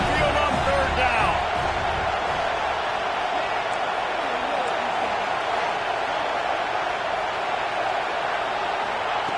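Steady roar of a packed Alabama Crimson Tide stadium crowd at Saban Field on third down in a college football video game, a loud continuous wash of cheering with a brief thump early on, filling the whole stretch.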